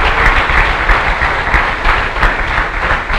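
Dense, steady applause from a workshop audience honoring their teachers on Teachers' Day, a continuous loud wash of many hands clapping for the full few seconds with no talk over it.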